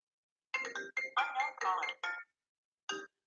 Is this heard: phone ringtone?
yes